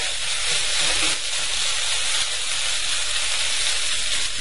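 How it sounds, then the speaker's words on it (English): Steady loud sizzle and hiss of sauce being stirred in a hot pan, continuous and close, with no talking. "The sauce is on top. I am now going to stir it."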